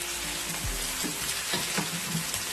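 Coarsely crushed ginger-garlic paste sizzling steadily in a hot pan for goat head curry, with a spoon scraping and stirring through it, close and continuous, with no talking.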